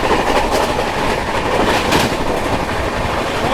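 A Rajdhani Express train runs at about 130 km/h through Faridabad Old without stopping, giving a loud, steady roar with rapid clickety-clack from the wheels on the track and no voices.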